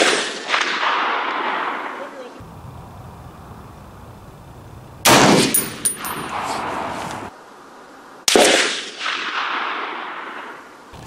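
Three loud, widely spaced shots from an M1A SOCOM rifle fired at a steel post 200 yards out, each a sharp close blast with a long decaying echo, separated by quiet stretches.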